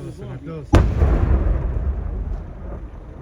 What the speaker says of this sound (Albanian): operacion për shpërthimin e shkëmbimeve në rajonin e Torovicës